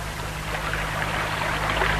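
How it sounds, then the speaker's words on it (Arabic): A flowing brook of water runs in a steady, continuous rushing trickle, fairly loud and close, with no other sounds over it. "فذهبت إلى الجدول وشربت"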